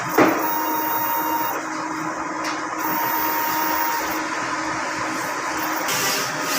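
An inkjet printer runs a nozzle check, giving a steady mechanical whir with a faint tonal hum, a sharp click at the start and a few small shifts in the motor's drone.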